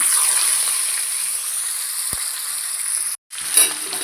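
Garlic sizzles loudly in hot oil with mustard seeds, a steady close crackling hiss broken by a sharp pop and a brief moment of silence before the frying resumes.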